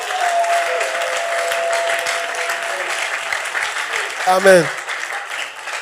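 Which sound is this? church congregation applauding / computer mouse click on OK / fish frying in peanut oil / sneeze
church congregation applauding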